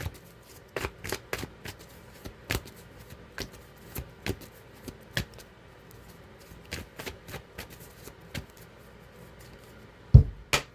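Tarot cards being shuffled by hand, a steady run of crisp riffling flicks and soft slaps close up, with one louder knock near the end and no talking.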